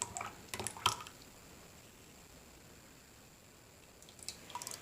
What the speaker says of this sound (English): I'm just going to kind of stir it a little bit and then pour it in